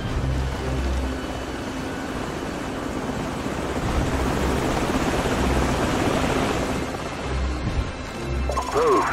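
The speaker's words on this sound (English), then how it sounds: "Enemy helicopters." Enemy helicopters in the Call of Duty 4: Modern Warfare war game, a steady loud rotor drone filling the whole stretch, with low rhythmic thumping underneath and combat clatter toward the end.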